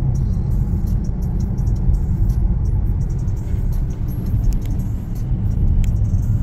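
A 2017 Bentley Continental GT V8S with a twin-turbo V8 driving on the road, giving a steady low cabin rumble and engine drone with faint tyre noise throughout and no talking.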